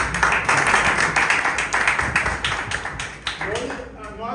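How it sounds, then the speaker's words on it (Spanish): Audience clapping at a wood sculpture workshop, a steady patter of hands that rings out for a few seconds and thins near the end, with a voice beginning to talk as it fades. "Otro aplauso."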